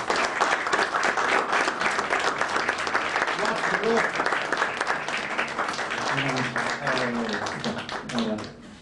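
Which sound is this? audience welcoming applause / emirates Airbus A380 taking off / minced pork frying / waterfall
audience welcoming applause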